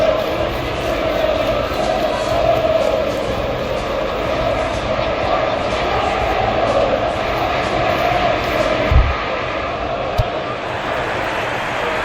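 A football stadium crowd at a Tottenham vs Manchester United Premier League match fills the air with a dense, continuous roar that stays loud and even throughout, with a couple of brief thuds near the end.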